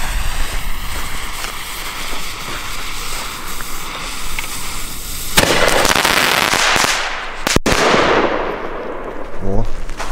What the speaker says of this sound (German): wir machen weiter hier mit den BKS Alpha Bombenrohr.